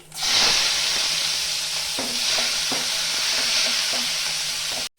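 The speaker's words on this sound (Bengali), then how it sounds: "মাছ ভাজার তেলটার মধ্যে আমি ফোড়ন দিয়ে দিব" Black cumin seeds and chopped onion sizzle hard in hot oil left over from frying papda fish. The loud, close, steady hiss has light stirring clicks, then cuts off abruptly at the end.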